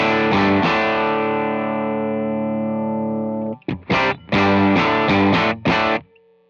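An electric guitar played through an ACS1 amp simulator pedal gives a loud, distorted sustained chord that rings for several seconds, followed by a series of short choppy staccato stabs.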